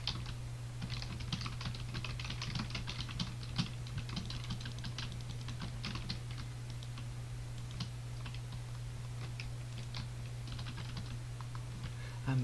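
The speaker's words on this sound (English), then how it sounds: "listen to the sensation of just pure clicking of our keyboards and mice" Computer keyboards and mice clicking during late-night gaming, a continuous, fast patter of light key taps and clicks over a steady low electrical hum, close and quiet, with no talking.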